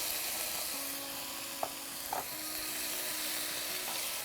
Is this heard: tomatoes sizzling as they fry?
yes